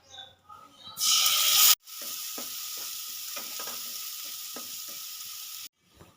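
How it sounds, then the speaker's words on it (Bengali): Onion and green chili paste hits hot oil seasoned with a bay leaf and whole garam masala, bursting into a loud sizzle, then settles into steady frying with spatula stirring and scraping in a pan. "ওদিকে পেঁয়াজ আর কাঁচা লঙ্কা কষা হচ্ছে"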